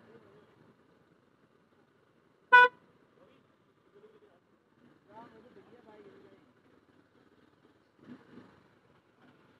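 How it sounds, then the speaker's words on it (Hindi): Heavy road traffic at Khajjiar, with one loud, sharp car horn blast up close, then faint engine hum and distant vehicle movement amid sparse background voices. "यहाँ पे काफी ट्रैफिक लगा हुआ है"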